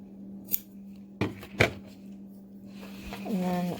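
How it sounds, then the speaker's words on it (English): Scissors trimming excess pantyhose fabric after tying a knot in a DIY face mask, giving a few crisp, close snips with quiet gaps, then a brief murmur of a voice. "And then I just trim off the excess"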